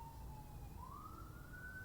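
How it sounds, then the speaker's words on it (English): A distant siren wails, its pitch dipping then rising in a slow sweep over a low rumbling background. "you hear the siren again?"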